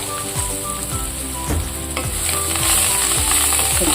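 Coriander leaves frying in tempering oil with turmeric and curry leaves, a steady close sizzle with repeated stirring scrapes throughout.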